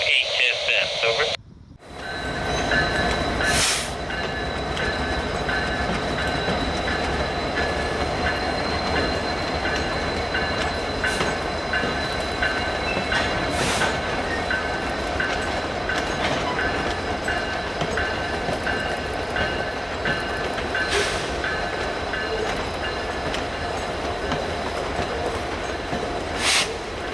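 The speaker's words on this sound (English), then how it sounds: "Canadian Pacific Train 458 with its usual Norfolk Southern power takes the siding for welded rail train symbol number 931" A Canadian Pacific freight, train 458, rolls past close by behind Norfolk Southern locomotives, a continuous rumble and rhythmic clatter of wheels over rail joints, with radio voices heard over the noise.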